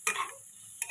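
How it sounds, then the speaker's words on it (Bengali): Onion and tomato fry with turmeric in a pan, a quiet close sizzle with a scraping stir at the start and another brief stir near the end. "পেঁয়াজের সাথে আমি টমেটোটাও হালকা ফ্রাই করে নেব।"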